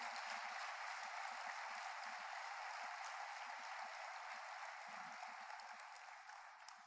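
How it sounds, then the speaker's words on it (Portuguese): A church congregation applauds steadily, a dense broadband wash of clapping that holds for several seconds before easing slightly toward the end, with faint low murmurs beneath. "Dá uma salva de palmas aí"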